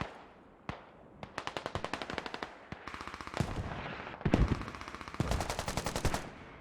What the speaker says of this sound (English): Shots going out.